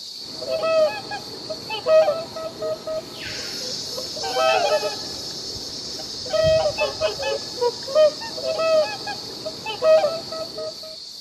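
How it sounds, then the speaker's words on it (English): A swan calls with repeated honking notes, some short and some drawn out, in uneven groups over a steady high hiss, fairly close and clear. "Swan"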